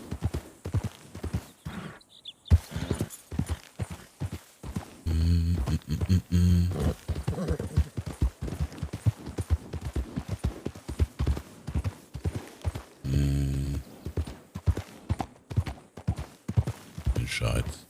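A horse-drawn cart rolls along with hooves clip-clopping in a steady, fairly close rhythm that continues throughout, with people talking and a neigh partway through.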